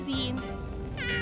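A cat meows twice, a short cry at the start and another near the end, with a voice murmuring in between.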